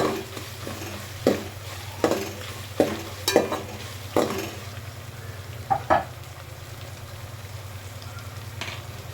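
Onions frying in a pan with ginger garlic paste, a steady low sizzle broken by repeated scraping strokes of a spatula at an uneven rhythm.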